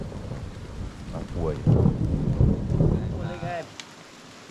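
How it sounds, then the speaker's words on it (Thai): Thunder rolls through a rainstorm, a loud deep rumble over steady rain patter, while someone speaks briefly over it. "โอ้ฟ้าร้องอ่ะ"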